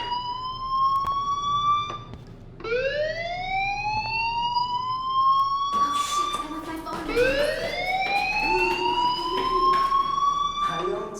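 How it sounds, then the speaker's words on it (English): A rising and falling electronic fire alarm siren wails steadily in the video game Life is Strange, sweeping up in pitch in repeated long cycles, loud and close, with other tones layered briefly partway through. "Hey, do you hear that fire alarm? That means you should be outside."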